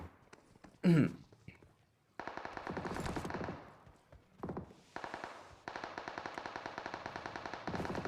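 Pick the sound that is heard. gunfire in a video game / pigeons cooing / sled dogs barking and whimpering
gunfire in a video game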